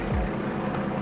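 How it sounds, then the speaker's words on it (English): A loud helicopter passes overhead, its rotor and engine making a continuous broad rumbling roar that holds steady and close throughout, with no voices. "there's a loud helicopter"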